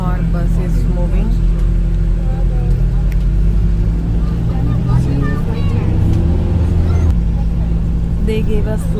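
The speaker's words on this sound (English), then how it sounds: "Now our bus is moving." Steady low engine drone of a moving bus fills the cabin, loud and continuous, with passengers' voices murmuring over it.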